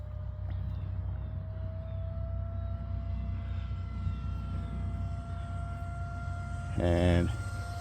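A 70mm EDF F-16 RC model jet in flight after a rebuild, a steady sustained whine with a constant high tone under a low rumble, then a brief louder burst near the end; someone talks over it.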